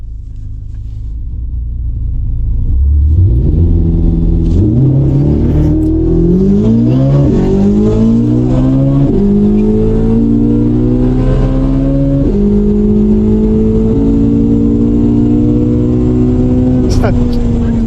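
A Chevrolet Corvette C8 Z06 launches hard from a foot-brake hold, its engine roaring up through the revs with a loud, close, sustained wail and quick shift steps, starting after a quieter idle and staying loud to the end.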